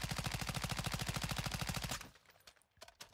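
Automatic rifle in Modern Warfare 2 emptying a whole magazine through walls: a rapid, steady burst of loud shots for about two seconds, then abrupt silence with a few scattered faint clatters.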